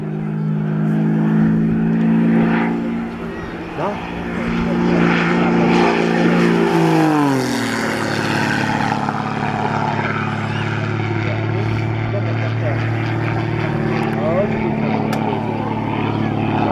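A propeller airplane flies at the 2014 Nyíregyháza air show, its loud steady engine drone holding throughout and dropping sharply in pitch midway as it passes close by, with someone talking over it.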